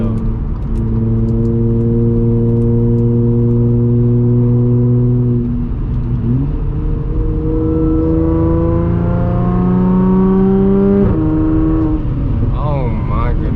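An Audi S4 B8.5 with an AWE Touring exhaust on test pipes, heard from inside the cabin with the windows closed, gives a steady, loud droning note that dips and climbs again as the revs change.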